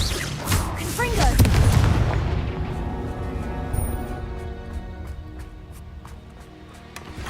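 Fiery blast from a Confringo spell in the Hogwarts Legacy video game: a loud booming explosion that erupts early, then a long rumbling, crackling decay fading over several seconds, with game music and effects beneath.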